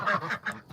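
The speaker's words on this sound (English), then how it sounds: "So here are my ducks." Pekin and Ancona ducks quack in a short run of three or four nasal calls, close by and moderately loud, with no talk over them.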